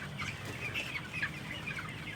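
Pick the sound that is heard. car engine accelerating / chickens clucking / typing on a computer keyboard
chickens clucking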